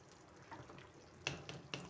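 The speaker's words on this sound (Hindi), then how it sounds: "ये हमारी हंडिया की भुनाई हो रही है।" Goat kidneys with garlic and onion frying in a cooking pot, a quiet sizzle broken by a few short sharp clinks and scrapes of a spoon stirring, with no talking.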